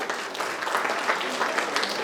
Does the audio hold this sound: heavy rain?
no